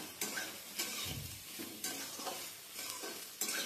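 Soya chunks sizzle and fry steadily in a pan, with periodic scraping and stirring strokes every second or so; no voices.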